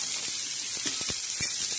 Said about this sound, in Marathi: आता कढीपत्त्याला कांदा टाकलेला आहे।